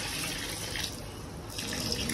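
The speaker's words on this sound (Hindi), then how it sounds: "तो अब मैं पानी डाल देता हूँ उसके अंदर।" Water poured from a tap into a container of sand to wash it, a steady rushing splash that swells slightly midway and continues close and moderately loud.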